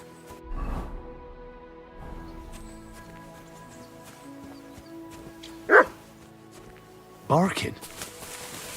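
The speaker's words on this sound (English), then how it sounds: "Barking." A dog barks a few times in the medieval game Kingdom Come: Deliverance II, short sharp yelps scattered over a quiet ambient bed, with a couple of louder, closer barks near the end.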